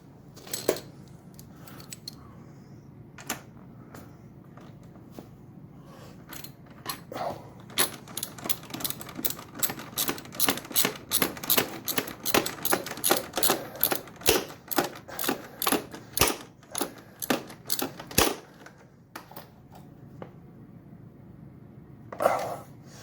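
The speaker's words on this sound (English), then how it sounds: "Crank this down with our 12mm socket." A ratchet wrench with a 12mm socket tightens a bolt on a Suzuki DR650 motorcycle, giving a long run of quick, close clicks that build into a dense, steady ratcheting rhythm before stopping, with no talk.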